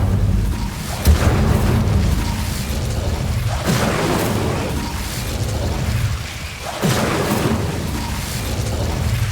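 Incendio fire spell cast in Hogwarts Legacy, a run of loud booming fiery bursts with whooshing swells over a dense, steady game soundscape, with heavy thumps near the start and again later.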